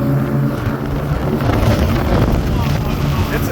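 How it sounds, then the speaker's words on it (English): Loud, steady wind roars against the microphone on the open Mississippi River near La Crosse, with a low engine-like rumble underneath, continuous and blustery throughout. "It's windy back here."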